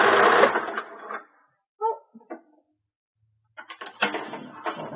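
A sewing machine stitches a wide decorative zigzag on a homemade ice pack in short, close bursts of whirring, with gaps and a few small clicks between runs.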